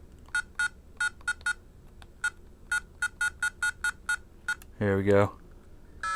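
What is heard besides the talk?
Atari game sound from video game on Flashback Portable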